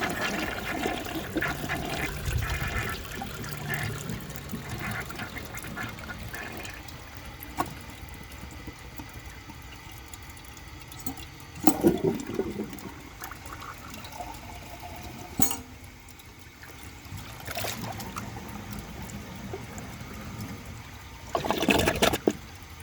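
A 1957 Kilgore Atlas toilet flushing during a performance test, a long steady rush of water with gurgles, clunks and a surge near the end, heard close and alone.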